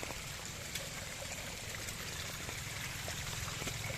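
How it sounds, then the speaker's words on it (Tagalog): Clear mountain stream water running steadily in a remote rural hill setting, a continuous close rushing trickle with no pauses and no talk over it. "Yan, tubig yan. Pwedeng inumin yan."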